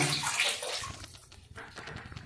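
Water pours and splashes into a washing machine drum during a wash, a bright rushing gush at first that settles into softer sloshing and trickling, fairly close.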